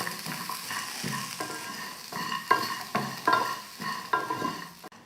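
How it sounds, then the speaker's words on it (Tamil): Cashews and coconut dry-roasting in a bare pan without oil, stirred in regular scraping strokes roughly once a second, each stroke rustling over a quiet background. "இப்போ இதெல்லாம் சேர்த்து நல்லா வறுத்துக்கலாம்"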